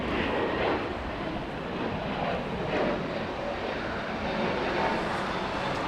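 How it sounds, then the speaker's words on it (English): Delta Airbus A321neo jet departing Los Angeles International Airport, a distant steady engine rumble with a faint whine, fairly quiet and unbroken, with no talking. "We have a Delta A321 Neo departing"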